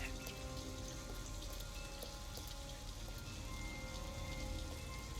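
Steady rain in Detroit: Become Human falls as a constant hiss with scattered drops pattering on surfaces, faint and unbroken, with no voices.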